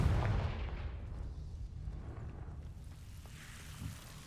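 Confringo fire spell blast from the Hogwarts Legacy video game during a boss battle: a loud, booming burst at the start that rolls off into a low rumbling tail with faint crackles and a softer thud near the end.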